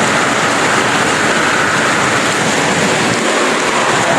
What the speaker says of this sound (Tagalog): Ayun, naabot na tayo ng ulan.